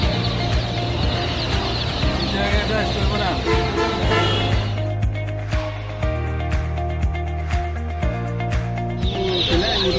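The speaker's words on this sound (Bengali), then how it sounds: "নাজমুল ভাই কতদিন আগে আমাদের কাছে পিউ টাইগার মুরগি বাচ্চা অর্ডার করছেন" A dense flock of Tiger (Sonali hybrid) chickens and chicks, with constant cheeping and clucking that fills the whole stretch, close by and loud.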